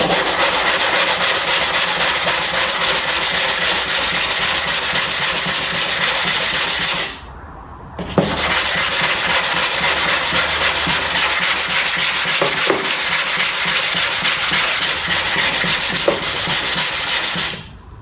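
An old, hollowed oil stone is rubbed back and forth on a sheet of old sandpaper to flatten it, a loud continuous gritty scraping that breaks off once for a moment before resuming.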